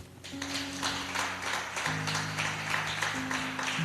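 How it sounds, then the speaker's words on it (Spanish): Church congregation applauding for the Lord during a sermon, a steady wash of many hands clapping over a sustained organ or keyboard chord, moderately loud and continuous throughout. "Denle un aplauso al Señor"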